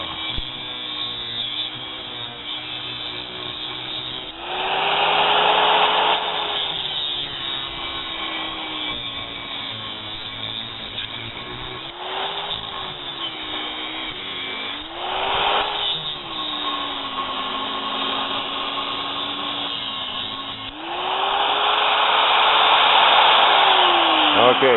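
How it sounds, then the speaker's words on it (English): An angle grinder cuts down the center of a metal vise, a steady high whining grind with several louder surges as the disc bites harder, continuous throughout. "Use your grinder this way at your own risk."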